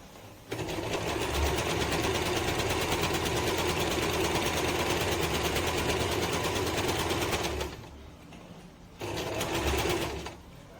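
An Usha Janome DLX sewing machine stitches fabric in a steady, rapid mechanical whir for about seven seconds, stops briefly, then runs again in a short burst, close up and without talk.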